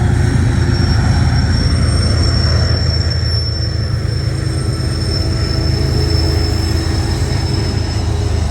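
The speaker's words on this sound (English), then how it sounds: "That's just a regular train." A freight train hauled by six locomotives rolls past close by, a loud, continuous heavy rumble with a thin sustained wheel squeal above it and no voices.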